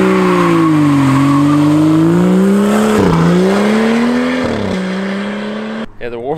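A BMW running on E85 fuel does a burnout, its engine droning loudly at high revs with tires squealing continuously, the pitch dipping and rising before fading near the end.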